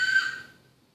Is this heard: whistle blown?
yes